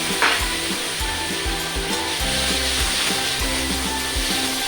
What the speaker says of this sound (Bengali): আলুগুলোও ভেজে নেওয়া হচ্ছে, মাছ ভাজা হয়ে গেছে।